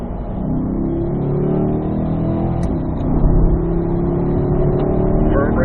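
A Corvette powers out of turn one on a race track under firm throttle, its engine droning steadily and building, with a brief louder surge midway; the engine note dominates without speech.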